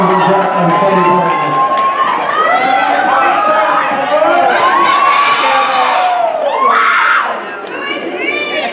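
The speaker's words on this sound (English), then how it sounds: "please give a big round of applause to Tim Bajak and Kelly Barnett." A crowd at a ballroom dance competition cheers and whoops for the newcomer waltz finalists, with loud, continuous shouting and raised voices throughout and a brief dip near the end.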